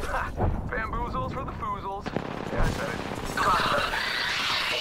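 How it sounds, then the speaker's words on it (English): Gunfire from the video game Apex Legends: distant bursts and rattling shots mixed into busy game audio, with people talking over much of it. "Shooting. I'm under fire."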